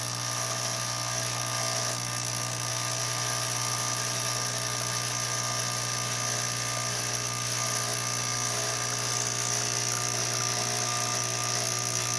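ECM Classika semi-automatic espresso machine with low brew pressure, its pump droning steadily and evenly throughout as a shot pulls slowly, with no voices over the hum.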